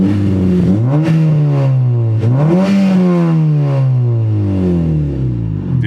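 A 2015 Honda Civic Si with a Hondata tune, engine heard up close as a loud, steady mechanical drone with its pitch rising and falling in slow blips, running alone without voices.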